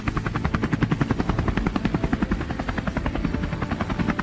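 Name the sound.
helicopter flying low over wild hogs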